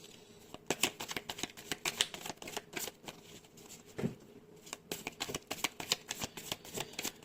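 Tarot cards are shuffled and drawn by hand, a faint close run of quick riffling flicks and soft slaps in uneven bursts, with no voice.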